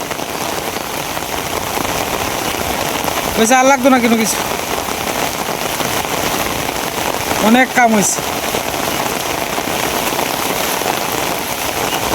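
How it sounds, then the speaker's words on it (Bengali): Heavy rain pours down steadily in a dense, even hiss, with people talking over it at moments. "বৃষ্টি আরো বাড়তেই আছে খালি।"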